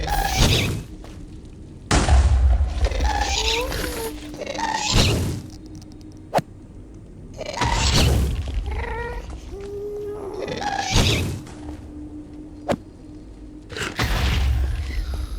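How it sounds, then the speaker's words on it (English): A Minecraft ghast in the Ragnamod VII modpack gives out loud, wailing, cat-like cries and several booming fireball shots at uneven intervals, with short quieter gaps between the bursts. "Yeah, shoot a fireball at me."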